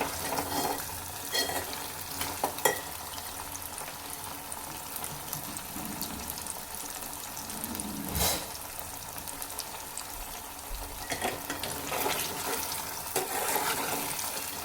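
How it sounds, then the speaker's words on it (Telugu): Taro root pieces frying in oil in a pan: a low continuous sizzle and bubbling hiss, with occasional scrapes and stirring knocks from a spoon. "చామగడ్డలను ఆయిల్లోనే కొంచెం ఎక్కువసేపు వేగించుకోవడానికి అయితే ట్రై చేయాలి"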